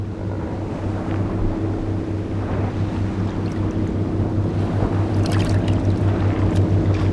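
Steady low engine drone of a boat on water, with constant wind and water noise throughout and occasional splashes toward the end.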